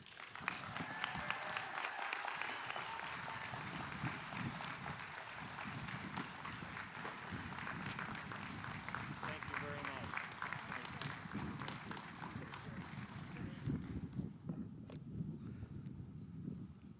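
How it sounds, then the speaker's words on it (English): Sustained crowd applause at a 2021 college commencement ceremony for Health and Human Services graduates, a continuous rattling patter of many hands, moderately distant and uniform throughout. "Let's give her another round of applause, please."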